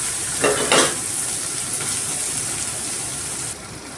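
Steady sizzling of chopped onion frying in hot oil, with a couple of brief louder bursts near the start as something is stirred or added.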